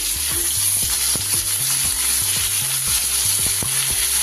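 Chopped green tomato goes into a pot of tangy matar dal, giving a steady, loud sizzle and frying hiss throughout, with a recurring low tonal hum pulsing underneath and no talking.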